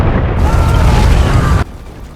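A gunshot setting off a snow avalanche in a G.I. Joe action film: a loud, sustained booming roar of tumbling snow that cuts off abruptly, leaving a faint low rumble.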